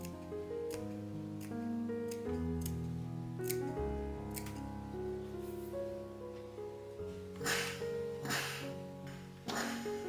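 Scissors snipping off excess fabric at a hem while sewing a wedding dress: several crisp, close cuts spaced unevenly, heard over soft background music.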